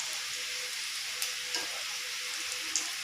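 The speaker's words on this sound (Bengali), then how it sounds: "পেঁয়াজ আদা রসুনের পেস্টের সঙ্গে একটু নাড়িয়ে নেব" Ginger garlic paste frying with browned onions in hot oil, giving a loud, continuous close sizzle with a few soft stirring scrapes.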